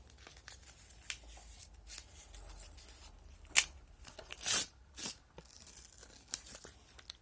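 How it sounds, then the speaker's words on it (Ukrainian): A small handmade paper surprise packet is torn open, with a few sharp ripping bursts and crinkles between quieter rustles of paper, close by in a quiet room. "Тепер Відкриваємо цей пакетик."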